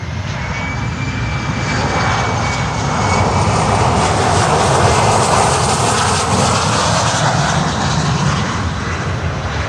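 Eastern Air Express airplane at Miami airport, a loud steady jet engine roar filling the whole stretch with no break.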